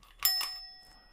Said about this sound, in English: you'd pull it, yeah? And it would just ring the bell